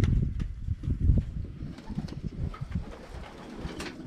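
Pigeons in a loft coo in low, throaty, rolling calls close by, repeated over soft rustling and faint flutters.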